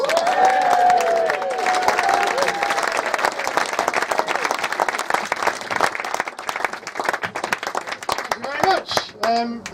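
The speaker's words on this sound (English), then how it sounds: "lead the applause for your headline act tonight, Mr. Benji Waterstones" Audience at a comedy night in a yurt applauds and cheers the headline comedian, a loud sustained clapping roar that holds steady for most of the stretch before thinning out, with a compere's voice rising over it near the end.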